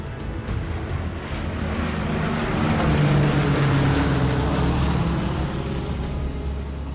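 B-17 bomber engines roar in a broad, rushing drone during takeoff, a loud, steady rumble that swells and holds with wind-like hiss.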